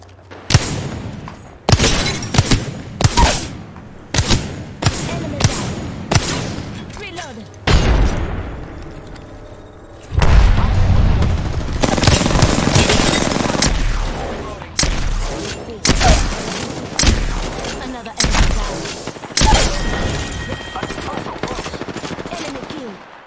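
Loud, sharp gunshots and rapid bursts of gunfire in a shooter video game, with many close, distinct cracks and booms in an irregular rhythm, broken by denser stretches of battle noise.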